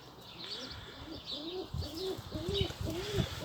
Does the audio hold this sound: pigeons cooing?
yes